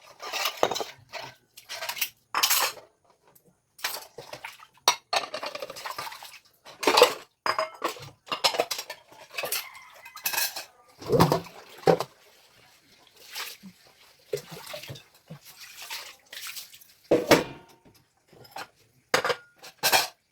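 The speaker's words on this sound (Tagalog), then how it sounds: "ako igahugas naman ng pinggan" Dishes being washed by hand at a home sink: repeated clinks and clatter of plates, pots and cutlery, with splashes of water, close and irregular throughout, in quiet stretches between bursts.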